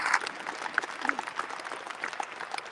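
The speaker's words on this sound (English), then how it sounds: "Give yourself a round of applause for being here." A gathered crowd gives a round of applause at a welcome event for a football coach, scattered clapping that is fairly soft and a little distant, with faint voices mixed in.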